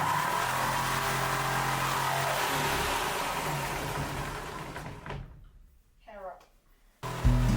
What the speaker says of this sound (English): I'm going to jigsaw off this and make it so that it's really straight